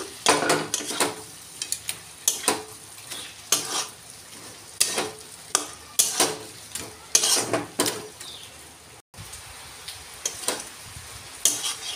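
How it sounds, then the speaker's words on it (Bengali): Soybean chunks and capsicum being stirred with spice paste in a pan: repeated scraping strokes of a utensil against the pan over a soft sizzle, irregular and close, with a brief dropout near the end. "এবার সোয়াবিন ক্যাপসিকাম মশলার সঙ্গে ভালো করে কষিয়ে নিয়ে"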